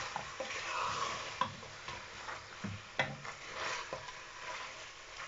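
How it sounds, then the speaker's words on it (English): Curry goat meat stirred in a pot, Jamaican style, giving close, faint rubbing and scraping strokes with a light sizzle and a few soft knocks of the spoon. "then I'm gonna give it a stir again"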